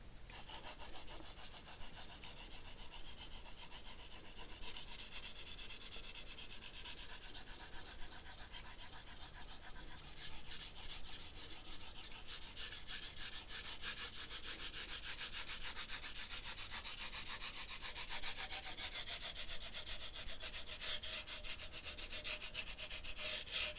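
A knife blade drawn across sandpaper in a sharpening pass, a continuous close, dry abrasive rasping with repeated scraping strokes, quiet overall and heard alone.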